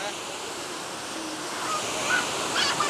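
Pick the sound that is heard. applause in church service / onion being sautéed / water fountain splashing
water fountain splashing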